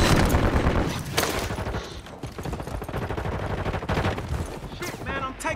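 Sustained gunfire in Call of Duty Warzone, rapid automatic bursts mixed with single shots and occasional louder blasts, running throughout under the chatter of players talking.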